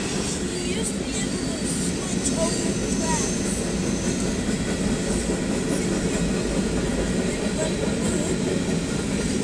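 Union Pacific freight train 2671 rolls through a grade crossing in Saint Elmo, Illinois, with a loud continuous rumble and the clatter of wheels on rail, the noise filling the air steadily without letup.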